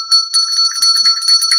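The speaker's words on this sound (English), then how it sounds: "you ring your bell" A small bell rung repeatedly in quick succession, bright clear tinkling strikes close and loud with no other sound.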